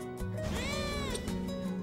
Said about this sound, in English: Kitten therapy.